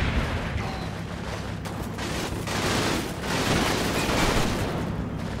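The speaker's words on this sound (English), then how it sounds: "Covering fire, come on!" Sustained covering gunfire in a 1945 Soviet battle in Combat Mission: Red Thunder, with steady crackling rifle and machine-gun volleys mixed with occasional heavier booms at a moderate distance.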